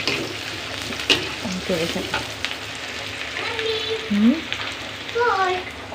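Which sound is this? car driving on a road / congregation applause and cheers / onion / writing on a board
onion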